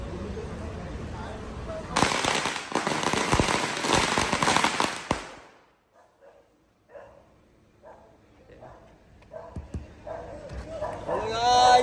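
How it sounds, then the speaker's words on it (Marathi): Firecrackers burst in a loud, dense crackling volley at a wedding procession in Dombivli, then cut off abruptly, leaving scattered small pops, a barking dog and people talking nearby. "मजबूत फटाके"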